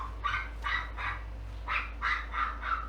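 A dog barks outdoors in a steady series of about eight fairly loud barks, evenly spaced over a low constant hum.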